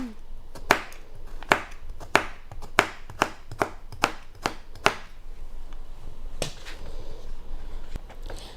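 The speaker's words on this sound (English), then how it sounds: "Just want to cut it in big chunks like that." A kitchen knife chops a green pepper into big chunks, a quick run of crisp, sharp thuds against a cutting board that slows and spaces out toward the end, close and clear.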